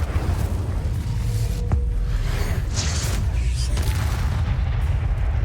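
The Incendio fire spell in Hogwarts Legacy goes off with a deep rumbling boom, a sharp crack and a rushing whoosh of flame, then the sound fades into a low background roar.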